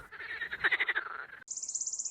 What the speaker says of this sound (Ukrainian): А це лунає кумкання жаб.